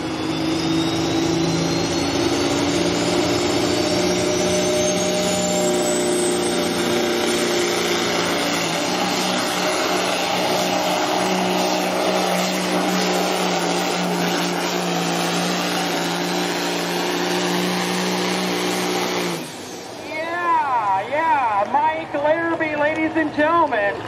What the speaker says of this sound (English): here comes Shameless, a Cummins KT 1150 engine